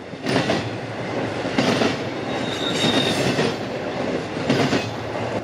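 A KCS 9405 AC-44C6M locomotive hauls a train past close by, with continuous rumbling wheel noise and rhythmic clickety-clack bursts as cars roll over rail joints, loud and steady the whole time.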